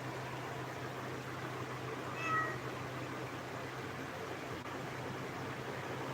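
A pet cat at home gives a single short meow, faint and brief, over a quiet room hush.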